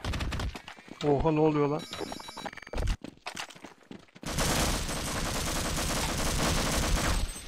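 Shotgun blasts in the online shooter Half-Life, bursts of loud gunfire breaking out after a stretch of talk and a ringing tone, then a dense, sustained volley filling the last few seconds, with someone speaking over it.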